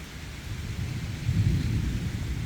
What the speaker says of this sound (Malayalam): മഴ ഒന്ന് തകർക്കട്ടെ